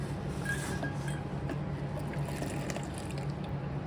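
Liquid drained from a 1939 Austin 12 into a paint cup trickles in a faint, steady dribble with small drips, heard close in a quiet garage.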